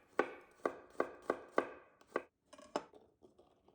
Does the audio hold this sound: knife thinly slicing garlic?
yes